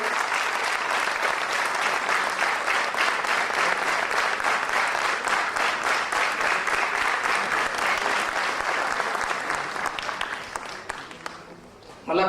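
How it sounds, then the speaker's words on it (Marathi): Sustained audience applause for the teachers at a school function, dense clapping from a large crowd going steadily for about ten seconds, then thinning and fading out near the end. "परत एकदा आपण जोरदार टाळ्या वाजवून सगळ्या सरांसाठी टाळ्या वाजवूया."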